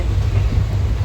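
A passenger train rolls along with a dense, steady low rumble from the carriage, heard from inside the coach, briefly and without talk.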